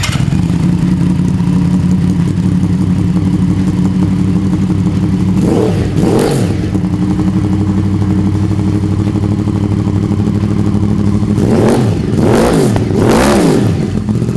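Yamaha R1 motorcycle with a LeoVince full exhaust system runs loud and close, holding a steady idle broken by two sharp rev blips midway and a cluster of quick revs near the end; no talk.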